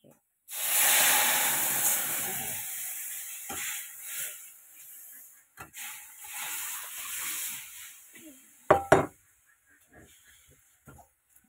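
Lentils poured into hot ghee tempering for Bengali dal burst into a loud, close hissing sizzle that fades over a few seconds, followed by softer stirring scrapes and clatters while a voice speaks briefly.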